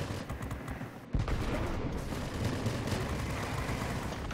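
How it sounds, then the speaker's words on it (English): Machine guns on a P-80A fighter plane fire in World of Warplanes, a loud, dense, unbroken rattle of gunfire that carries on without pause for several seconds. "so we know how to use these machine guns"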